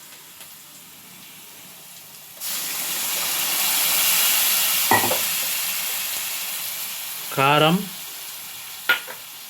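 Onions and turmeric frying with tomato puree, a loud steady hiss of sizzling oil that swells when the puree goes in, with a few scraping stirs of a spoon near the end and a brief spoken word.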